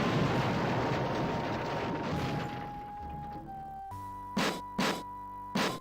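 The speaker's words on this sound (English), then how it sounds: "Just then, you hear and feel an explosion, which seems to have come from behind the door." An explosion bursts behind a sealed bulkhead door in the video game Space Quest 6, a dense roaring blast that tapers off into a thin tone, followed by a few short sharp bursts near the end.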